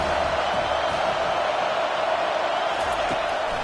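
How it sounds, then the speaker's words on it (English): A steady, dense roar of a stadium crowd in an NCAA football video game, a constant wash of massed voices holding level and loud throughout with no breaks. "this crowd trying to help keep them there"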